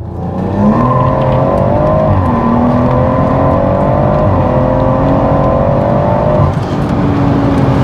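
BMW M140i with the B58 engine accelerating with wheelspin, a loud close engine note rising through the gears, with a shift dip and a steady roaring pull afterward.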